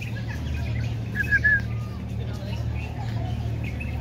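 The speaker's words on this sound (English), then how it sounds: "Wow, daming birds." Birds chirp in a park during a group picnic, scattered bright tweets rising over a low steady hum, with people talking nearby.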